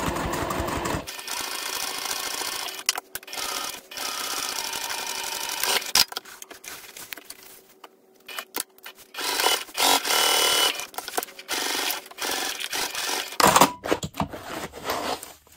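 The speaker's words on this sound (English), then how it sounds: "let's begin sewing along our curves" A sewing machine stitches curved seams on a laptop bag, running in long bursts with brief stops and a short quiet pause midway, steady and close.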